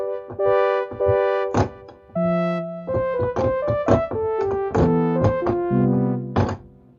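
Short plucked synthesizer notes play a quick melodic pattern, each note snapping on and decaying fast, clear and up front.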